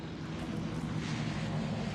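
A steady droning roar of carrier plane engines in the naval combat game World of Warships, a dense continuous rumble with no talking.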